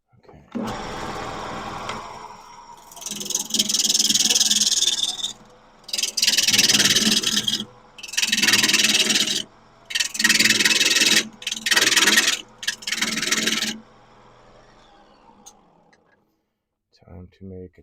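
A gouge shapes wood on a spinning lathe to cut a tenon, producing loud rasping, hissing bursts of several seconds each, repeated five times over the steady hum of the running lathe.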